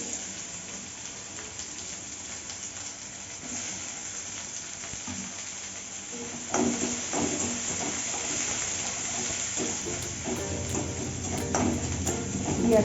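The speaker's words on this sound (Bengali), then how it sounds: "পেঁয়াজটা একটু ভাজা হোক।" Chopped onion and ginger fry in a pan with a steady low sizzle, joined partway through by louder stirring scrapes and crackles; no speech.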